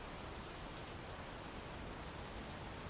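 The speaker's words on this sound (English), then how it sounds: "It is pouring the rain." Steady, dense rain pours down in the game Big Ambitions, a continuous broadband hiss with no distinct drops standing out and nothing else audible.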